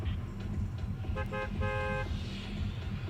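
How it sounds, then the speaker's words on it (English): Fortnite battle bus horn in the video game: two short honks in quick succession, the second slightly longer, heard over a low rumbling engine-like background with no talking. "We got a honk there in the beginning"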